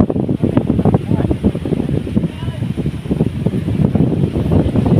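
Steady wind rushes across an open beach, with a constant broad roar and some gusty buffeting.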